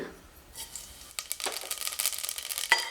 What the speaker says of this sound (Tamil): சோம்பு நல்லா பொரிஞ்சு வந்துருச்சு